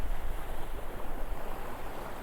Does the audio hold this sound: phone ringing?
no